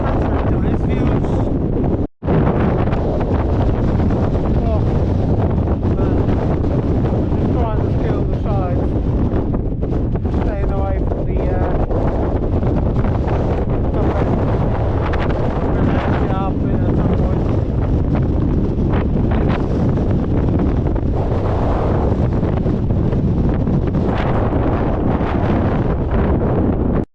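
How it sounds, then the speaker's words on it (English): Strong gusting wind of fifty miles an hour or more on the Y Lliwedd mountain ridge roars constantly across the microphone, loud and buffeting for nearly half a minute, with a brief cut early on. "It's too windy. I reckon it's plus 50 miles an hour gusts, if not more."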